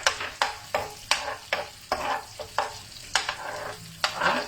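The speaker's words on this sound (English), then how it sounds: "I'm cooking my garlic using the melted butter." Minced garlic frying in melted butter alongside salmon fillets, with a steady sizzle broken by repeated scraping strokes of a utensil stirring through the pan in an even rhythm, close and clear.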